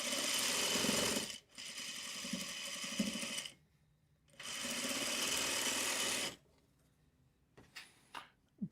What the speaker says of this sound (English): And I am just sewing the blocks together, or sewing the units together.